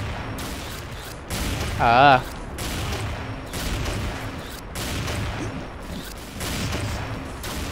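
Sniper rifle shots ring out in the video game XSHOT: several sharp reports spaced a second or two apart, with a voice talking underneath.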